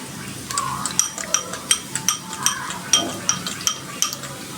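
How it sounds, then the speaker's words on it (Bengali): A spoon clinks against a bowl in quick repeated taps while salt, dry chili powder and turmeric are mixed with water, the close clinks rising and falling in a steady stirring rhythm. "বাটিতে আমি লবণ, শুকনো মরিচের গুঁড়া, হলুদ নিয়ে নিয়েছি। এবার এটা পানি দিয়ে মিক্সড করে নেব।"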